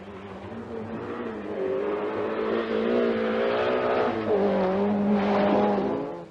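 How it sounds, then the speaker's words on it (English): A Volkswagen Golf GTI Group A rally car drives at speed, engine revving and rising through the gears, then shifting and climbing again in a loud sustained drone that swells and fades near the end, with no talking. "This is 30-year-old Kenneth Eriksson in his Volkswagen Golf GTI"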